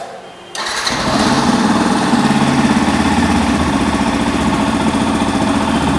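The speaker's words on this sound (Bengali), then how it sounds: "এবার চেষ্টা করব বাইকটা স্টার্ট করে আপনাদেরকে সাউন্ডটা শোনানোর।" A nearly new Yamaha FZ-S Deluxe V3 motorcycle cranks over after a brief quiet moment, then catches and settles into a loud, steady close-up idle for the rest of the clip.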